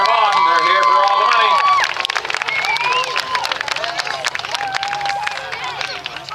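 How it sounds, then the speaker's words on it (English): A crowd at a six-cylinder demolition derby in Windsor, Nova Scotia claps and cheers in a dense, continuous patter. A loudspeaker announcer talks over it at the start, then the applause carries on alone. "All right, everybody, put your hands together."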